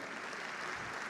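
A church congregation claps together in a brief, dense burst of applause, steady and fairly faint, with no voices standing out.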